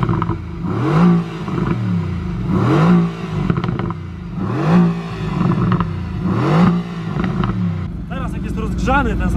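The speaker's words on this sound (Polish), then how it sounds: "Ten samochód, nawet na postoju fajnie strzela przy zwiększaniu obrotów" Limited-edition Mercedes-AMG GT R Pro sports car revving hard while stationary, four loud rising-and-falling blips with crackles, then settling into a rough idle; no one speaks over it.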